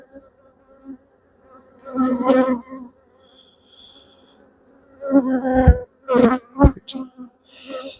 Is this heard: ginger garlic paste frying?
no